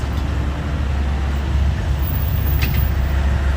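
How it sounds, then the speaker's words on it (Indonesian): A convoy of large loaded trucks rumbles past, giving a continuous low, heavy drone that holds steady throughout, with faint higher hiss riding on top. "Konvoi truk-truk besar bermuatan ya."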